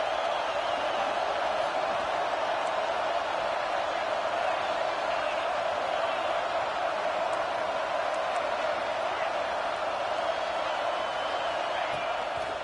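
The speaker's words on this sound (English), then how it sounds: "This crowd rising up, sensing that its defense needs some help." A football stadium crowd surges into a loud, sustained roar that holds steady and dense throughout, with no clear breaks.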